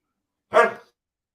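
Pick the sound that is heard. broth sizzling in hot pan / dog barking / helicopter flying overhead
dog barking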